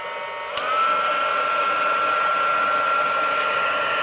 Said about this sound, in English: Then we're going to bring in our heating gun